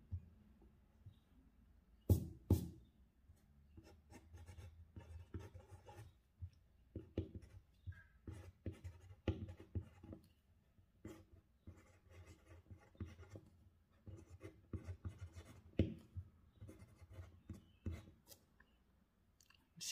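Scratchy strokes of a 2B graphite pencil on paper, close and intermittent, with short bursts of writing broken by brief pauses and occasional sharper taps.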